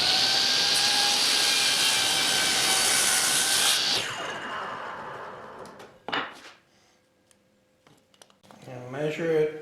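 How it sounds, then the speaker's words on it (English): A table saw runs loudly, making a 1-inch test cut through a wooden block, a steady high whine for about four seconds before spinning down, followed by quieter handling noises and a voice speaking near the end. "Now I'll make the cut."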